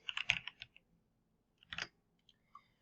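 A quick burst of computer keyboard typing, several light clicky keystrokes in a rapid cluster, then a short pause and a few more taps, close and fairly quiet with no talking.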